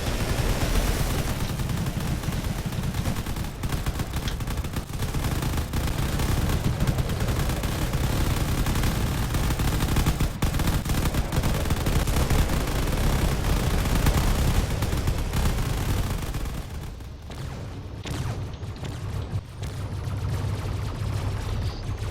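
A space carrier's weapons blast away at enemy fighters in the video game Drone Wars, a dense, continuous barrage of rapid gunfire and explosions that runs loud and unbroken, thinning briefly near the end.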